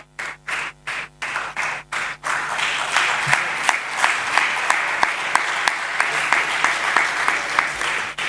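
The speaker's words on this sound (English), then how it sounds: "you have to give him a big round of applause" Audience applause at a prize-giving ceremony at an HR management event, starting as a few sharp separate claps and swelling into sustained, dense clapping from a large crowd in a hall.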